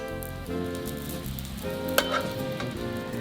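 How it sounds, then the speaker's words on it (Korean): A cheese-filled rice roll wrapped in egg sheet fries in a pan, giving a close, even sizzle with a sharp tap near the middle and faint tonal background sounds underneath. "지단과 함께 노릇노릇하니 맛있게 구워집니다"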